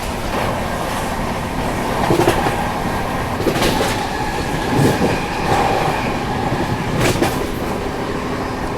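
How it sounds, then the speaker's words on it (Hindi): Steady wheel-and-rail rumble inside the Vikramshila Express at about 130 km/h after leaving Ghaziabad, loud and continuous, with faint rhythmic clicks over the track joints and no talking. "गाजियाबाद से निकलते ही ट्रेन ऑलमोस्ट 130 की रफ्तार में चल रही है"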